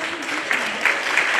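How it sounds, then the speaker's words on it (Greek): Brief burst of audience applause at a music school's programme presentation for primary pupils, dense clapping with a few sharper peaks, close and fairly loud. "Ένα χειροκρότημα παρακαλώ."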